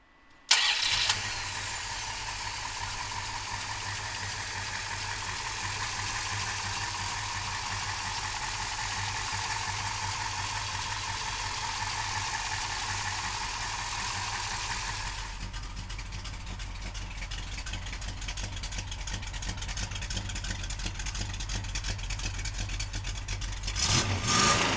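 A 1968 Plymouth GTX muscle car engine cranks briefly and catches, then settles into a steady, rumbling idle that carries on alone, close to the microphone, for the rest of the stretch.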